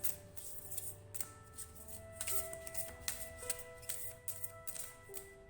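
A deck of stone-themed crystal cards is shuffled by hand, quiet riffling and sliding card clicks in quick irregular bursts, close and soft with faint music underneath.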